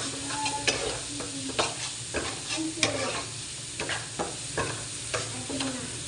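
Spiced curry frying in a pan and stirred with a utensil, giving a soft steady sizzle with repeated scraping strokes at an uneven rhythm, close and fairly quiet, with no voices.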